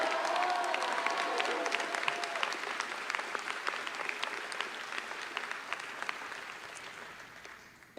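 Applause from a high school graduation crowd fills the hall, steady clapping from many people that gradually fades and tapers off near the end.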